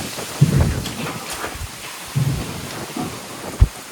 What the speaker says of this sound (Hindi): तेज आंधी है, अब ये पेड़ भी टूट कर गिर सकते हैं